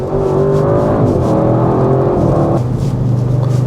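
A 2025 Audi RS6 GT engine pulling under throttle, a loud, close, steady drone that climbs in pitch, then dips briefly and picks up again near the end.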